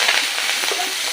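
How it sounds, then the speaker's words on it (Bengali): Green chilies frying in hot oil give a brief, close, steady hiss and crackle for about a second, with no speech. "এখন আমি কাঁচা লঙ্কাগুলো একটু তেলে দিয়ে দেবো।"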